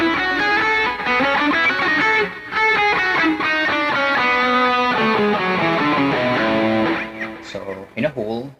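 Major scale on a distorted electric guitar, a run of sustained single notes with a gritty, buzzing tone, ending with a few quicker, softer picked notes.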